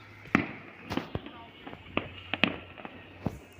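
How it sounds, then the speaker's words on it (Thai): Fireworks and firecrackers go off at a New Year countdown on a mountain, with sharp irregular bangs and pops at mid distance and people talking in between. "จะจุดพลุกสวยงามขนาดไหนกันครับ ตอนนี้เขาก็เริ่มเริ่มจุดไปแล้วนะครับ"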